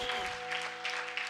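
A church congregation claps together during a worship service, a steady wash of applause filling the room for a brief moment with no voices standing out.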